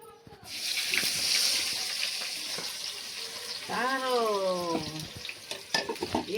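Squeezed potatoes frying in hot oil, a steady sizzle and crackle with stirring clatter, while a voice briefly cuts in over the cooking noise.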